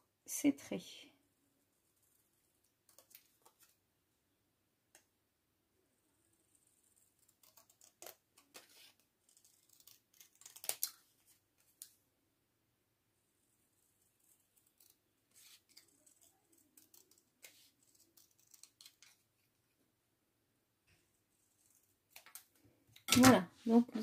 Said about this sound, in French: Et on va venir découper sur ces traits.